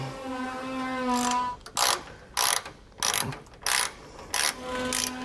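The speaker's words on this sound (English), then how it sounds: "at the top I'm going to have my ratchet, so we'll be tightening the nut down" A ratchet wrench tightens the nut on a Roadmaster front anti-sway bar bracket of a 2008 Freightliner, giving several short bursts of fast clicking separated by pauses, fairly close and clear over a faint background hum.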